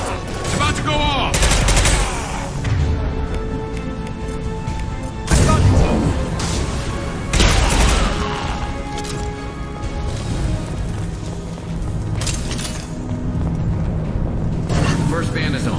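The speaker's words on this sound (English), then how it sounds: "Firing a high impact shot. It's about to go off." A high impact shot fires in Mass Effect 2 amid loud combat, with heavy bursts and crashes around 0, 5 and 7 seconds over a constant roar of gunfire and noise.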